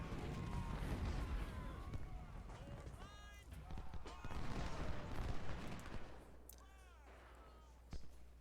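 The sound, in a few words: skirmishers' gunfire from video game Ultimate General Civil War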